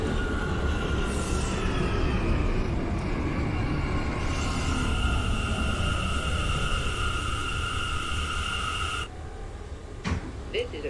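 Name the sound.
NYC subway R179 train running, OpenBVE train simulator video game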